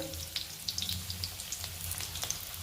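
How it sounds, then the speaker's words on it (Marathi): Stuffed bitter gourds fry gently in a pan over a low gas flame, giving a soft, faint sizzle with light intermittent crackles and a low steady hum underneath, with no voice. "एकदम बारीक गॅसवर सर्व कारले परतून घेणार आहोत"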